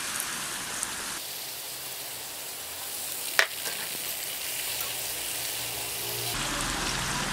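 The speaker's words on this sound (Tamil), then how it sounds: "இந்த மாவை நம்ம இதில் போட்டு பொரிச்சு எடுத்துக்கலாம்." Diamond-cut snack dough deep-frying in hot oil hisses and sizzles steadily and close, with one sharp crackle partway through and the bubbling growing louder toward the end.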